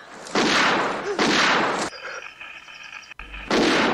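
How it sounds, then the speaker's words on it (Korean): Gunshots at a swimming pool in a film scene from The Great Gatsby: two loud, booming blasts with a long ringing tail, a quieter gap, then another heavy burst at the end. "수영장에 윌슨이 나타나 노란 차의 주인인 개츠비에게 총을 쏘고 자살합니다"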